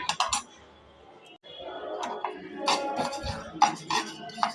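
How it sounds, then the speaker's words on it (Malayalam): Sesame seeds crackle and pop in a hot pan, with scattered sharp clicks and light scraping against metal, fairly close. "എള്ളൊന്ന് പൊട്ടാൻ തുടങ്ങി."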